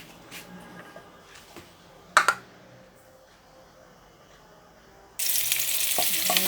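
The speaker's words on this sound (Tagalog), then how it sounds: "Igisa tayo." Onions are sautéed in hot oil in a home kitchen. A low sizzle runs quietly at first, broken by a couple of sharp clatters, then a loud, steady hiss of frying takes over near the end.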